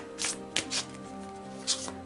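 Tarot cards shuffled by hand ahead of a romance reading, a few soft riffling bursts separated by quiet pauses, close and alone with no talking.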